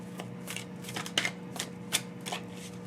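Tarot cards riffled and shuffled in several quick bursts, soft papery flutters with a few sharper snaps, close by and unaccompanied by speech.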